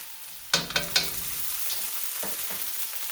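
Minced garlic hits a hot pan for Cantonese soy sauce noodles with a few sharp clatters, then settles into a soft, steady sizzle, with no one talking.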